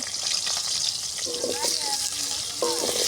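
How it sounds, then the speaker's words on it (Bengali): Loud, steady sizzling of potatoes frying in hot oil in a wok, with occasional stirring and scraping; a voice speaks faintly underneath. "কড়াইতে আমি আলুগুলো দিয়ে দেবো আলুগুলো ভাজবো"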